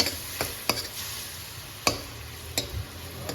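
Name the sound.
stirring and frying spices with tomato in a pan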